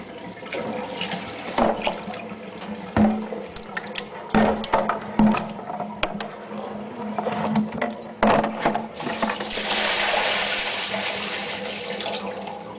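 Water is poured out of a brewing pail in a bathroom, splashing and gurgling in uneven surges with a few knocks and clunks, then rising to a heavier rushing stream toward the end.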